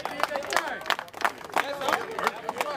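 A live crowd claps and cheers for a battle rapper after a one-round battle, the applause rising in loose bursts with someone talking over it.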